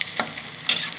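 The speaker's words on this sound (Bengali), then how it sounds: "লাল লাল করে ভেজে নেবো" Vegetables with potato frying in oil for a Bengali masoor dal kofta dish, a close steady sizzle broken by two short scraping stirs, one sharper burst near the end.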